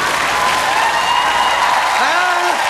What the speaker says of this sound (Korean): 박수를 길게 치지 마라